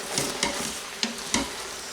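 Beef stroganoff stirred in an Instant Pot, a soft bubbling hiss broken by three or four brief scraping knocks of the spoon, close and with no talking.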